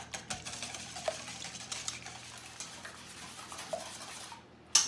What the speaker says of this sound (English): Give them a good whisk, beat them up thoroughly.